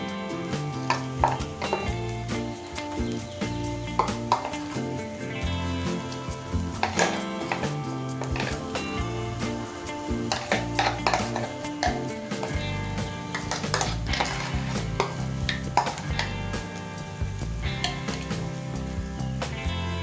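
Lentil paste being stirred in a pan over a low flame for a Bengali dhokar dalna, with soft clinks and scraping under background music, moderately quiet and continuous.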